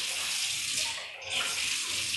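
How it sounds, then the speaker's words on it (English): Water pours steadily from a can into a soup pot in a home kitchen, a close, continuous splashing stream that briefly dips in the middle before resuming, with no talking. "I'm gonna turn around a little bit so I can add some water into this pot."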